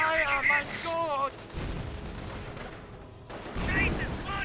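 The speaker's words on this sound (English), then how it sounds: "We're under fire!" Gunfire crackles and rumbles through a Company of Heroes match between Wehrmacht and US forces, a dense burst of shots in the middle, with game voice lines at the start and end.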